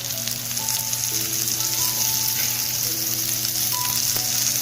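Tomatoes fry in a pan for mushroom tikka masala, giving a steady, close sizzle that runs without a break, with no voices present.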